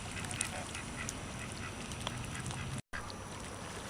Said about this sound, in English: you can see a lot of ducks are over here foraging for food along with all the geese